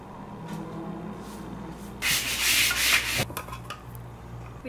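Wooden chairs are sanded outdoors with a faint scraping rub, then one loud, rasping stroke lasting about a second, before quieter scuffs return over a low background hum.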